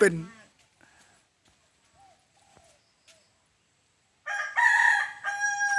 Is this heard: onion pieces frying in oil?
no